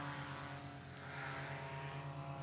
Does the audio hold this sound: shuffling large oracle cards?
no